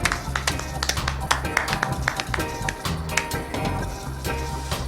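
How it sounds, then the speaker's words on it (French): Sharp, irregular handclaps break out in a small group at a broadcast from the Bayern Munich–Paris SG match. Distinct individual claps over a low background hum, fairly close and uneven. "c'était des amateurs, on peut les applaudir"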